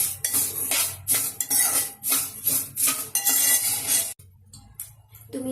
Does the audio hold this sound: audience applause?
no